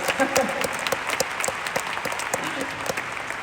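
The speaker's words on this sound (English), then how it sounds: "Just give them a round of applause for all of them at the Empowerment Day." Audience applause at an Empowerment Day business event rises as steady, moderately loud clapping from a room of listeners, with a voice also present in the mix.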